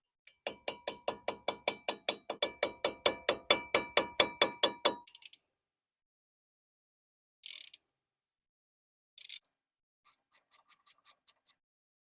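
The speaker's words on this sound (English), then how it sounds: "So our tip is to tap on it with the hammer" A hammer taps a rusted brake bolt on a Sierra or Silverado truck in a fast, even run of about twenty sharp metallic clicks, then short pauses and a few scattered bursts of taps and scraping, close and isolated.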